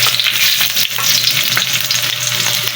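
Adobong pagi frying and being stirred in a pan on an electric stove, a loud steady sizzle with scraping stirs, close up and uninterrupted.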